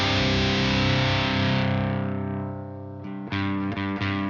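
Electric guitar through a Marshall DSL20H amp on its ultra gain channel, a heavily distorted sustained chord ringing out and slowly decaying, followed by a few sharp muted chord stabs, loud and alone.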